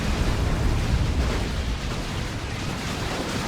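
Hell Fury strike from an Inquisitor in Dawn of War 2, a loud sustained rumbling explosion with a deep roaring low end that stays steady for several seconds without talk.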